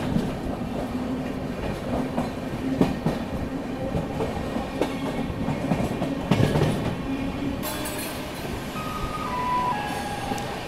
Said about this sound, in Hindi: बहुत ही स्लो रफ्तार में नैनी जंक्शन का स्किप हो रहा है।